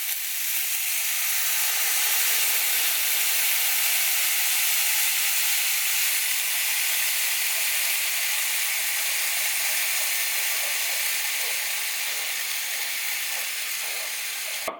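Loud, steady hiss and sizzle as strained pepper sauce pours into hot meat for carne guisada, close and continuous with no talking.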